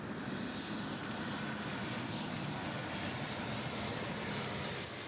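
An airplane passes overhead with a steady, broad roar of engine noise that holds at an even level throughout, loud and unbroken with no talking.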